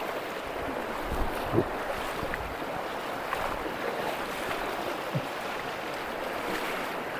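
Strong river current rushing during a river crossing in Abra, Philippines, a steady broad wash of moving water with wind buffeting the microphone and a couple of faint knocks, no voices over it.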